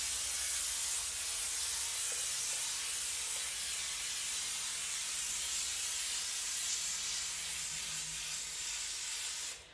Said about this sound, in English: I think you have about 1 minute of steam also without the plug.